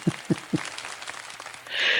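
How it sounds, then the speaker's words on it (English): A person on a media and pop culture talk program claps for themselves, giving three quick distinct claps close by, followed by softer patter and a rising hiss at the end. "Clap for yourself"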